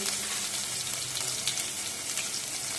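Ginger, chilli and garlic paste with a pinch of asafoetida frying in hot oil for gravy manchurian, a steady close sizzle with faint crackles and no speech over it.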